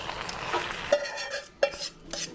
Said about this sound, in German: Das brutzelt schon richtig schön.